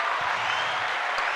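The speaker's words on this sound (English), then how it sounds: "Let's get a round of applause." Round of applause from a small group at the opening of a podcast, a steady dense burst of clapping throughout, close and fairly loud.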